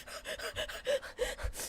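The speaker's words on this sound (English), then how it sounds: "heavy breathing." Heavy breathing in the video game Final Fantasy XIV, a quick series of about eight rhythmic pants, close and soft, alone without speech.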